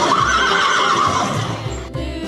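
A horse neighs in a long, loud whinny that rises and slowly falls, standing alone with no talk, among a series of farm animal sounds.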